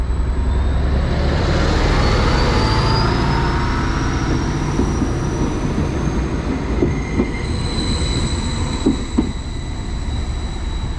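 A Greater Anglia Class 755 train runs at Melton station on the East Suffolk Line, making a loud, close, rumbling roar with rising whines and a faint squeal. Light wheel clicks come as it passes, with no voices.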